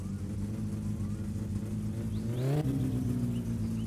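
Engine of a Satsuma car in My Summer Car, still below its ideal running temperature and backfiring, idling with a steady rumble that swells into a brief rev before settling again.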